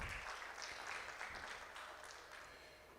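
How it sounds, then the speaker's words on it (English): Faint, distant applause from an audience at an EdTech fellowship event, honoring Brian, a continuous dense wash of clapping that slowly fades. "a round of applause for Brian"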